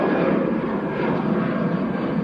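An airplane takes off at Manchester Airport. A broad, steady jet roar fills the air, loud and constant, with no voices over it.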